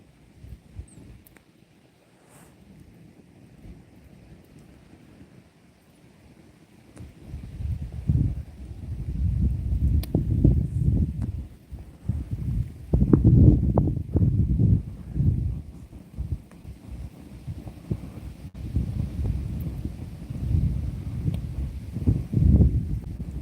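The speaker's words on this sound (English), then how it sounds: "It's a storm and we're in the middle of nowhere" Stormy night at a lake campsite with strong wind buffeting the microphone in gusts, rising to loud rumbling roars partway through, with a steady rushing wash throughout and no clear thunderclaps.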